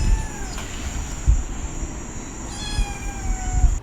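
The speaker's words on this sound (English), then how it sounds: "I have a new cat" A pet cat named John John meows twice, with a short call near the start and a longer drawn-out meow about two and a half seconds in, over a steady indoor background hum and no talking.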